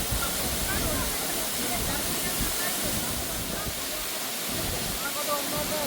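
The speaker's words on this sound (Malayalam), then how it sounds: "മുകളിൽ നിന്ന് വീഴുന്ന വെള്ളം നല്ല ഫോഴ്സിലാണ് വീഴുന്നത്" Aruvikuzhy waterfall in Kerala, with water plunging forcefully in a constant, dense roar that stays loud and unbroken throughout.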